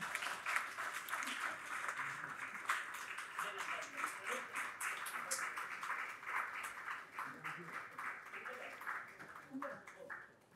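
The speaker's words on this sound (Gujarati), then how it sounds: "આપણે જોરદાર તાળીઓથી આ ક્ષણને શાશ્વત બનાવીએ" An audience applauds at a community award ceremony as an honouree receives a shawl, a dense steady clapping that lasts the whole stretch and fades slightly toward the end, moderately distant, with voices mixed in.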